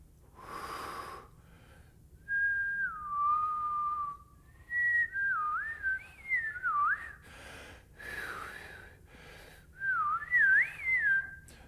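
A person whistles alone, sliding through wavering pitch bends and short melodic runs in several phrases, with audible breaths and a soft snort between them, close and clear.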